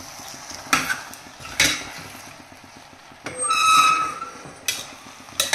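Green chickpea curry is stirred in a pot, making a few spaced, close scraping strokes against a faint background, and a whining tone rises midway through.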